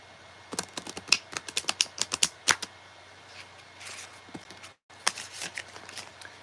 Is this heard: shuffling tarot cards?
yes